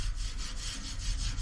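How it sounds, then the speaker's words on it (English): Steady abrasive rubbing as a scuff pad wet-sands a surface, a continuous scrubbing sound with rhythmic back-and-forth strokes, close up and fairly loud, no voices. "So I'm basically doing like a wet sanding here."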